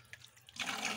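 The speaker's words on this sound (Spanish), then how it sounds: "Vamos a empezar a sacar agua de poco a poco" Water drains from a pond built from a recycled tire, a soft trickle with a few faint drips at first, then a louder gushing splash as the flow picks up in the final half second.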